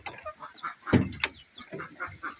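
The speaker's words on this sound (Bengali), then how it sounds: "আরো মুরগি আছে।" Hens clucking nearby in a rural yard, a string of short throaty clucks and calls with one louder burst in the middle, close and clear over a quiet outdoor background.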